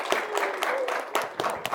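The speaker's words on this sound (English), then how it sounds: "Applause." Applause for a live IoT security game show, scattered claps from an audience that come in uneven bursts, with a faint tonal sound threading through and a voice partly mixed in.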